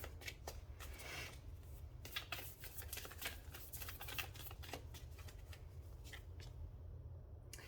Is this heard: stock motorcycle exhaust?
no